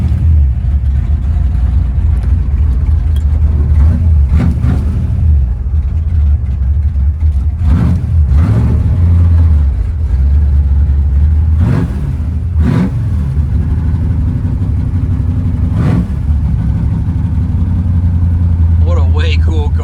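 A 1964 Ford Fairlane 500 Thunderbolt tribute with a 427 Side Oiler V8, dual quads and a 5-speed, driven with a loud, close engine rumble and several rising revs and shifts.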